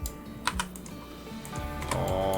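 Computer keyboard keys tap a few times at a desk while working in Cinema 4D, soft clicks standing out over a faint background hum, without any speech.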